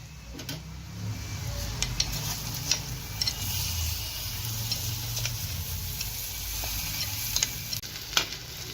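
Onion sizzles steadily in a frying pan, the sound of rice being added layered over it, with a spoon scraping and stirring at intervals in a close, continuous crackle.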